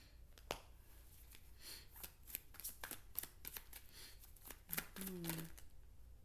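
Close, quiet tarot card shuffling with rapid papery flicks and snaps, a soft voice briefly murmuring near the end.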